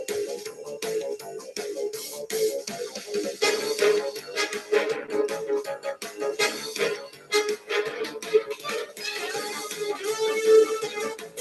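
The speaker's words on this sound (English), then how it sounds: "Oh, that's a Mario noise." Busy, bouncy video game music and effects from a Mario game play steadily throughout, with bright tones and quick percussive hits and no talking.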